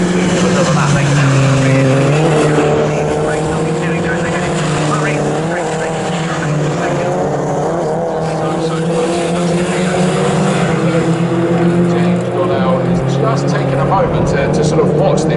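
Mini John Cooper Works race cars lap Snetterton circuit, their engines roaring loud and close with shifting pitch throughout, under continuous race commentary.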